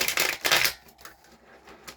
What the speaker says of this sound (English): let's just give this a good shuffle